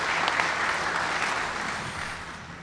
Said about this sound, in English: Thank you, everyone, for the applause.